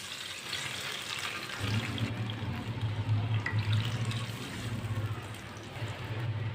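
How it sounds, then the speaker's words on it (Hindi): Two cups of water poured into a pan holding whole cumin and coriander seeds in oil or ghee, a steady splashing pour that runs continuously for several seconds with no talk. "2 प्याली पानी डालेंगे।"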